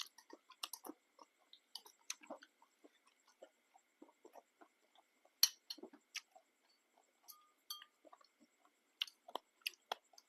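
Crispy fried fish with a thick, crunchy skin being chewed up close, giving irregular sharp crunches and clicks spread through a quiet background with no talking.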